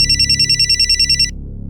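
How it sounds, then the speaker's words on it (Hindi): A telephone rings in a home scene from a TV crime drama: a loud, bright electronic ringtone pulsing rapidly for just over a second, then cutting off, leaving a low background hum. "तुम्हारा फोन बज रहा है।"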